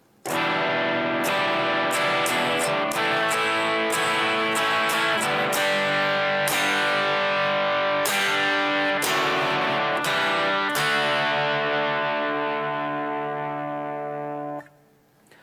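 A distorted electric guitar plays the tag at the end of the chorus of a song, a series of struck chords with repeated attacks that ends on a long ringing chord fading out, loud and alone.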